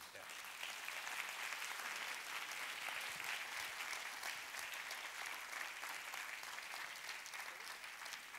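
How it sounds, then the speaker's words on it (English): Audience applause after a featured talk at the SIGGRAPH Asia 2011 conference, a broad, even wash of many hands clapping that holds steady throughout, heard from some distance in a large hall. "now you can applaud and we can ask questions and stuff"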